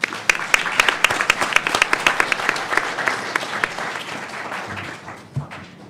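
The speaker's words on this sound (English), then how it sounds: "if we may have another warm round of applause for our speakers" An audience at a clean cooking industry panel session in Kigali applauds the speakers. Many sharp claps come at first, then thin out and fade toward the end.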